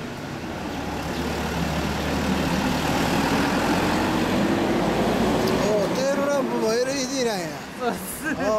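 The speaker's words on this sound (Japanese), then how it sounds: "ごめん、エンジンを聞かせてもらえる？" A 2007 Honda Hornet 250 (MC31) motorcycle with an Asahina exhaust idling close by with a steady low rumble, and people talking over it near the end.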